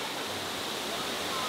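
Steady roar of a waterfall in the Carpathian mountains of Ukraine, a continuous broadband rush of falling water with no breaks, close and fairly loud.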